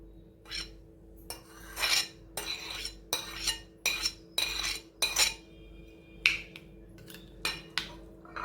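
A metal spoon repeatedly scrapes and clinks against a bowl while boiled beetroot is mixed into a yogurt koshimbir salad, a steady series of close, bright taps and scrapes with short pauses.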